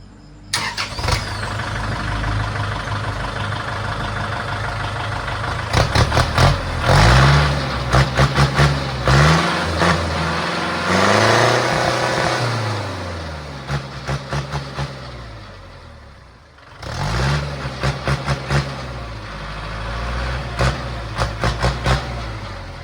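An L50 SP engine fitted with a split exhaust pipe with a 2.5-inch tip cranks and starts, then idles with a deep, loud rumble between repeated rising and falling revs, followed by a brief pause and another burst of revving.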